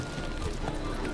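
Hooves of a horse in The Witcher video game pound in a quick, brief clip-clop run, fairly faint, with some background sound.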